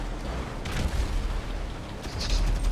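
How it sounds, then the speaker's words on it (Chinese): Explosions and gunfire in the video game GTA Online, a loud rumbling barrage with heavy booms and crackling bursts layered continuously for a few seconds. "要爆炸了！"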